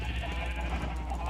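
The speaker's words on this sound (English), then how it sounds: "No, sheep, out of the way." A single short sheep bleat from the Minecraft game sounds fairly close, over a steady, low background hum.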